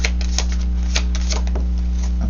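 Tarot cards riffle and slap together in quick irregular bursts, crisp papery clatter over a steady low electrical hum.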